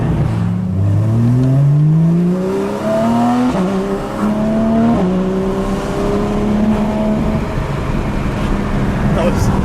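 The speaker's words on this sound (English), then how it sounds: "I'm hitting the paddle shifters to maintain, you know, a nice healthy RPM, so we have both the torque and acceleration capabilities that we would want" A 2023 Porsche 911 GT3 RS engine revs hard through paddle-shifted gears, its rising whine climbing, dropping at each upshift and climbing again, loud from inside the car with a voice speaking over it.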